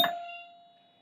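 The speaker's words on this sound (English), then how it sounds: "I don't know why Bally used that horse race chime," A single bright chime from a Bally pinball machine's horse race feature strikes once and rings out with a clear sustained tone, fading steadily over a second with no other sound around it.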